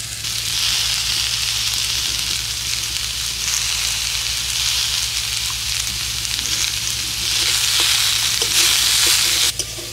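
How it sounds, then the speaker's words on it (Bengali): Drumsticks and mourala fish sautéing in a pan with turmeric and salt, a loud continuous close sizzle and crackle with stirring scrapes throughout, swelling near the end, no voices. "সব কিছু দিয়ে 5-6 মিনিট ভালো করে কষিয়ে নিলাম।"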